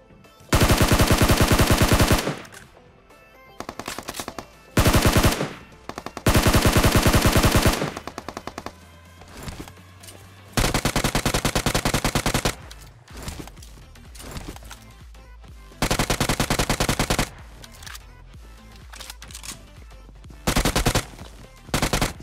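Automatic gunfire in a PUBG Mobile squad fight, loud rapid bursts of shots in several long strings separated by quieter gaps with scattered single shots and distant fire.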